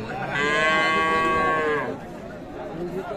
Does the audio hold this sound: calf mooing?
yes